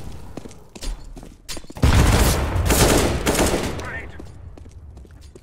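Rapid gunfire from the video game Counter-Strike (CSGO) rattles in bursts, with scattered single shots first and then a dense, loud volley, over faint background game noise.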